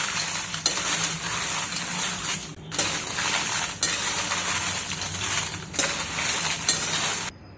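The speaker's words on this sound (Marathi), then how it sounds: "आता आपण बेडगी मिरची परतून घेऊयात." Byadgi chillies roasting in a pan for a Maharashtrian black masala, a steady dry rustle and stirring scrape with a faint sizzle, broken by short pauses, no talk.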